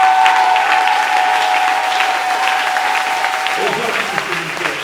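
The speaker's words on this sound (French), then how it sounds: "Est-ce qu'on peut acclamer très fort le Seigneur?" A church congregation at a French-language service bursts into loud, sustained applause and cheering that fills the room, with voices shouting over the clapping and a held tone in the background.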